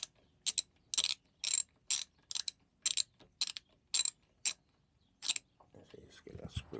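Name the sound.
X drive tool undoing a fastener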